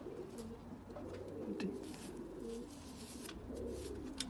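Pakistani Zeera pigeons cooing in a loft in Luton, UK, low rolling coos repeating steadily at moderate distance over faint background noise.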